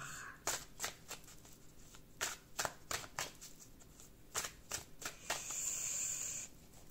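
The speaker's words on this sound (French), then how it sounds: "je vais recouvrir avec des cartes de l'oracle miroir" Oracle mirror cards being laid over a tarot spread: a run of crisp card slaps and sliding flicks at an irregular rhythm, close and clear with no talk, ending in a longer rustle of shuffled cards.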